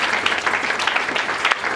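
A church congregation applauds at a Sunday service, steady dense clapping filling the room throughout with a faint murmur of voices beneath.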